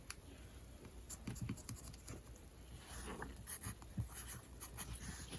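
A pen or marker scratching lines across a paper face mask pattern template, a steady run of soft close strokes and scratches with no talking.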